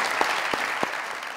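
Studio audience applause on a comedy talk show, a brief, steady patter of many hands clapping at moderate loudness, with a few sharper individual claps standing out.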